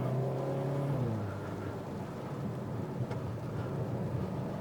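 A Hyundai Kona N engine, driven with its electronic controls switched off, climbs through a rising rev then settles into a broad, rumbling drone with road noise, heard steadily from inside the cabin.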